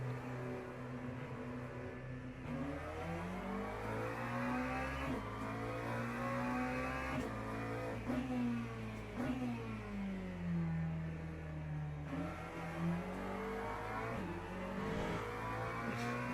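Race car engine on an outlap in Le Mans Ultimate, a loud continuous engine drone whose pitch rises and falls through repeated gear changes and revving, steady and close throughout, with no voices.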